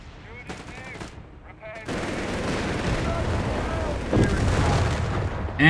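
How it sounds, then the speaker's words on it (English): Heavy mortar fire pounds a church in Company of Heroes 3, a dense roar of booming impacts and rattling gunfire that swells and holds steady, with a voice talking over the battle. "And heavy mortar fire on the church here."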